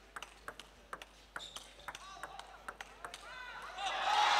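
A table tennis ball in a women's singles quarter-final at the 2015 China Open clicks back and forth in a quick, even backhand rally of sharp pings, ending as crowd cheers and applause swell loudly.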